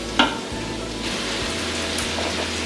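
Chicken and onions fry in a pan with a loud, steady sizzle, close up. A sharp clink of a utensil sounds near the start, and the hiss continues without talk.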